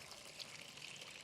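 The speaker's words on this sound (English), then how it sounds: "I'm going to add some more water to each one so we can actually make waves" Water being poured into a sand model tray for a rock models demonstration, a brief soft trickling splash that stays quiet and steady, with no voices.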